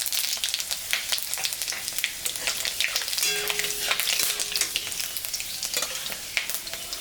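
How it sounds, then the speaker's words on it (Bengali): Dried chillies and panch phoron crackle and sizzle in oil left from frying fish, with stirring scrapes and sharp pops through a busy, close frying hiss, and no talking. "মাছ ভাজা তেলের উপরে শুকনো লঙ্কা,"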